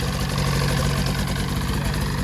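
Polaris 700 XC SP snowmobile engine idling steadily just after its first start, a continuous close low rumble with no pauses.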